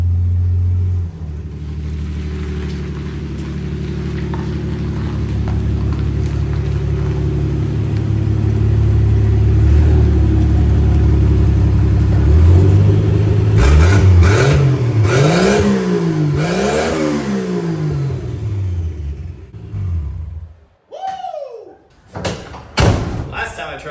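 A 1963 Plymouth Valiant with a Slant Six engine, fed boost through a Carter BBD carburetor, rumbles steadily at idle close by, then revs up and down in several swelling bursts before cutting off, followed by a few thuds.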